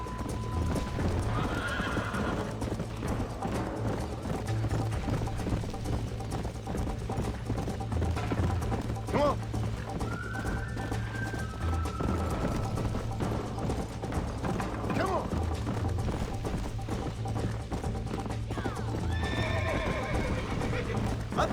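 A horse in the Red Dead Redemption video game clip-clops steadily at a gallop with repeated neighs and whinnies, joined by faint mechanical clicks and a distant voice now and then.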